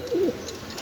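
Pigeons at a pigeon farm in Mirpur give a single short, low coo, fairly close, against a faint background hiss with no voices.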